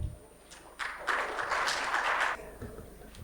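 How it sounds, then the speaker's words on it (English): Conference audience at a microfinance tech summit breaks into a short burst of applause that swells, holds for about a second and a half, then fades, heard at a moderate distance with no talking over it. "may we please give him a round of applause as he walks up to the stage"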